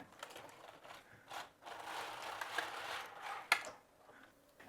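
A Passap Duomatic 80 knitting machine knits off stitches on a child's sweater. The carriage makes a faint, steady mechanical clatter that swells and fades, with one sharp click near the end and no voices.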